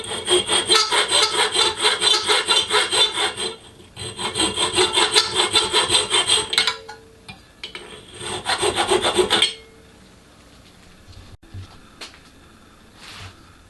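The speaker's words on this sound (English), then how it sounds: "I'm hand filing the slots in the front plate square." Steady back-and-forth rasping of a hand file cutting square slots in a metal front plate: two long runs of even strokes, a shorter burst, then near quiet.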